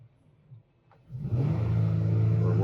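A Jeep Wrangler 3.6L engine with an oil pump fault starts from a faint idle, then revs up into a loud, close, sustained roar that holds steady to the end.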